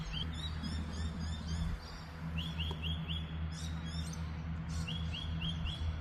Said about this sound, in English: You're hearing the birds.